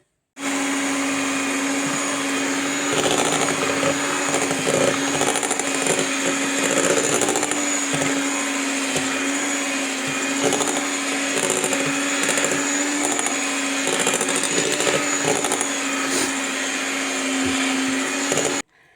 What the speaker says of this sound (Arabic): هضيف كده عليه الكاكاو واضربه كده بالكاكاو عشان انا عايزاه بالشوكولاته مش عايزاه بالفانيليا